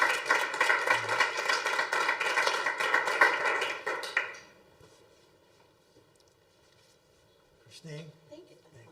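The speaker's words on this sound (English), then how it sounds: "Let's give her a round of applause." Round of applause at a Board of Education meeting, several seconds of dense clapping from the room that stops abruptly, followed by quiet and a brief voice.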